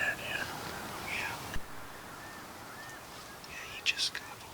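A wild turkey gobbles far off during a spring hunt: a faint, brief rattling call near the end over quiet woodland, with hushed whispering earlier.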